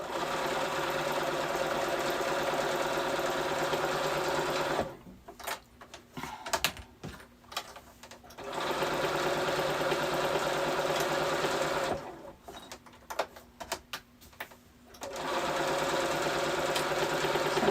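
A sewing machine runs a quarter-inch straight seam on a summer muumuu dress in two long steady bursts of rapid whirring stitching, each followed by a few seconds of quieter clicks and handling, with no talking.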